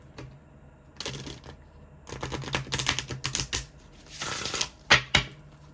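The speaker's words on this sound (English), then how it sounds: "I'm just going to shuffle this again." Oracle cards being shuffled by hand in several quick papery bursts of riffling and snapping, close and fairly quiet, with no talking.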